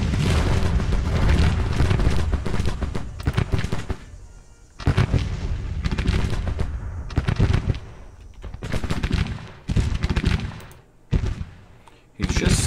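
Artillery and musket fire in a Civil War battle in Grand Tactician: The Civil War, a dense, loud stream of overlapping booms and gunshots, briefly dropping at moments before resuming in heavy bursts.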